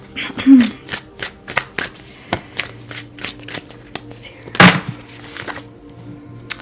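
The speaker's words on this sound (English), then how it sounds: "let's pull a few, one or two tarot cards here for my students" A deck of tarot cards is shuffled by hand for a reading, with crisp, close riffles and taps in a loose rhythm and a brief soft vocal sound partway through.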